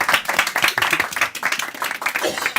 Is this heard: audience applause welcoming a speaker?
yes